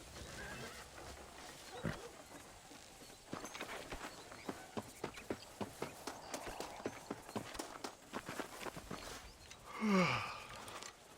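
Horse hooves clip-clop at a steady riding gait in the Red Dead Redemption game, a regular run of moderately loud beats in the middle, with a horse whinny or snort near the end and no talking.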